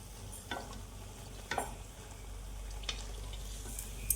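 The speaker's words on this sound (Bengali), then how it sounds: "দেখো একটু কালার করেই ভেজে নিব" Malpua fritters fry in hot oil with a soft, continuous sizzle at low volume, marked by a few faint clicks and small pops from the pan, with no one talking.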